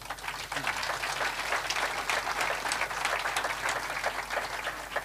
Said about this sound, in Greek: Χειροκροτήστε την.